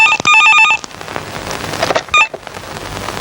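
A telephone rings loudly in short trilling bursts at the start of a police movie scene, then again briefly after a noisy, rain-like rushing background.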